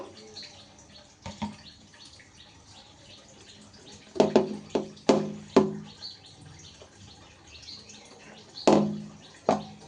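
Water splashes into beaten gram flour batter for boondi in a series of short wet slaps and splatters, several in quick succession, close and alone.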